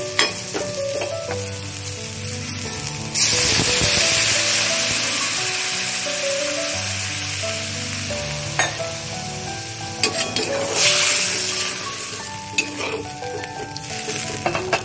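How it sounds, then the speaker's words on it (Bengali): Rui fish posto curry sizzles in a pan as salt is stirred in, with scraping stirring strokes over the frying. Water is then added, and the hiss surges sharply before settling back into a bubbling sizzle. "নুনটা দিয়ে আমি একটু নাড়িয়ে নেব। তারপর আমি এতে দিয়ে দেব জল।"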